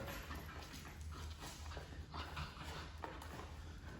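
Bull Terrier playing tug with its owner, giving growly, scuffling noises and faint whimpers over steady rustling and shuffling movement, close to the microphone, with no talk.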